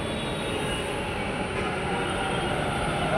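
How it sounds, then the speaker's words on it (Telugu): A metro train runs past a station platform with a steady, loud rolling rumble and faint wheel squeal that holds evenly throughout, with no voices. "సో ఈ ట్రైన్ కాదు మంది, నెక్స్ట్ ట్రైన్ వస్తుంది"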